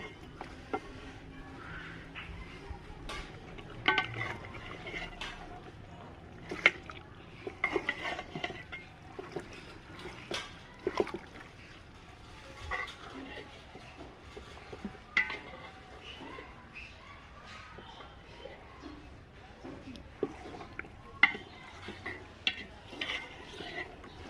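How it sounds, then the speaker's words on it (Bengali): Beef and fried spices being stirred in a pot, producing repeated soft scrapes and clinks of a spoon at irregular intervals, fairly quiet, with a faint cooking hiss between the strokes. "এবার নাড়াচাড়া করতে হবে।"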